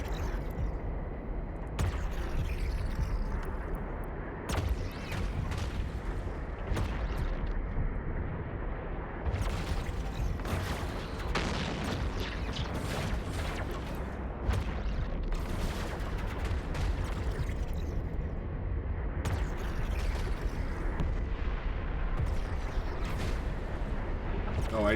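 Spaceship turrets in the game EVE Online fire in a steady, dense barrage of repeated bursts and booming impacts that fill the whole stretch with constant rumbling intensity.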